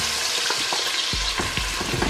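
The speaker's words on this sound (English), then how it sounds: "I'm adding my onion, my diced onion. Yeah. I'm gonna leave it to cook for 5 minutes." Diced onion frying in oil for a Ghanaian turkey stew, with a bright, continuous close sizzle and a few soft stirring knocks.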